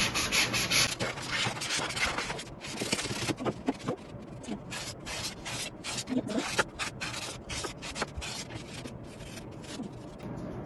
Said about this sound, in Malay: Okey, kita potong ikut bentuk ni.